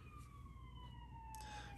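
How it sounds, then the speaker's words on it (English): Ambulance siren passing outside, a faint wailing tone that slowly sweeps under low room noise, distant and with no talk. "there goes an ambulance that I'm not going to be able to edit out"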